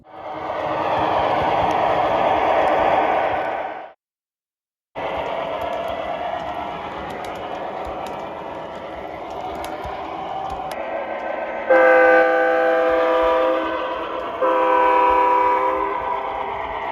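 Atlas O scale E8 model diesel locomotive running around a home layout, a steady close motor whir and track rumble with harmonic horn tones sounding near the end, no talk.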